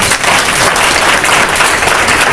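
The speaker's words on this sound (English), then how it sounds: "And y'all can clap for him." Church symposium audience applauding for a speaker before lunch, a loud, dense burst of many hands clapping that stays even for a couple of seconds with no speech over it.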